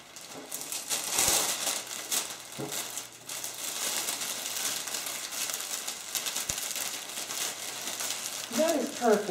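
Cellophane wrap crinkles and rustles in bursts while a wine gift basket is being wrapped, with sharper crackles near the end and faint background noise throughout.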